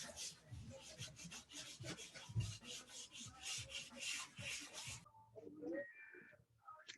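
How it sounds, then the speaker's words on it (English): Rhythmic rubbing strokes of sandpaper on a wood round, repeated back and forth at close range over knots and rough edges, stopping near the end before a few small clicks. "take a little extra care on the knots or any rough edges and give it a nice sanding all over"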